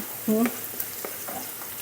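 Soft crackling and sizzling of garlic frying in hot oil in a wok, fairly quiet, with a brief tonal clatter near the start.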